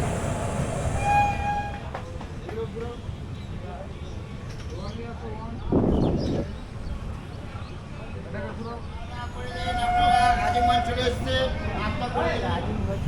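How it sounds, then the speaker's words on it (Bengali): At platform six of a station, the Azimganj–Krishnanagar passenger train stands with a low rumbling hum and a short louder burst midway, while people talk over it throughout. "ছয় নম্বর প্ল্যাটফর্মে দাঁড়িয়ে আছে আজিমগঞ্জ কৃষ্ণনগর প্যাসেঞ্জার ট্রেন"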